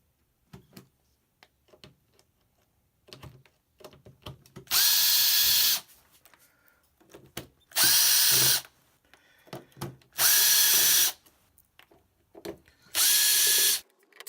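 A power drill runs in four separate bursts of about a second each, backing out the screws on a Fender Passport 250 amplifier, with quiet handling clicks and taps between bursts.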